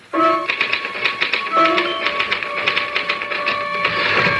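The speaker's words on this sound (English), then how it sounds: "Can I use the typewriter for a moment?" Rapid clattering keystrokes on a typewriter in an old radio drama, a dense rhythmic tapping with bell-like tones near the start and midway, loud and close without talk.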